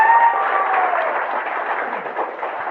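A crowd applauds at a Safe Shop venue meeting, a dense, steady wash of many hands clapping together throughout, fairly loud and continuous.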